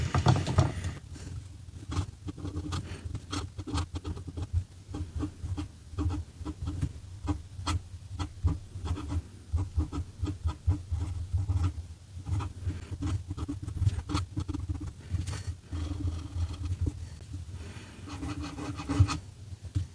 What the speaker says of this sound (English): Going to do a little writing sample with this pen and just make sure it writes quite well.